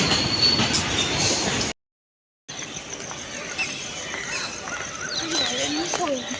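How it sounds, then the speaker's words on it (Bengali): A freight train passing through a railway station, a loud rumbling roll with metallic wheel squeals and clatter that drops out briefly and then resumes, with people talking nearby over the passing wagons. "এখন মালগাড়ি পাস করছে একটা"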